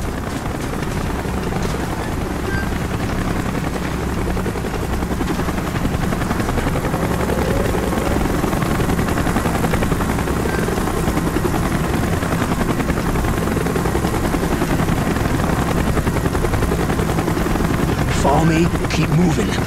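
Steady helicopter rotor thrum from the Call of Duty Black Ops video game runs without a break, loud and close, with game voices and battle sounds mixed in over it.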